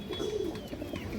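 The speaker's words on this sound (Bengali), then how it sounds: "টকটকা লাল কালার একটা লাল চুল্লি নর কবুতর" A big red male pigeon gives a short, soft coo nearby, a single throaty rolling note that fades quickly against quiet background noise.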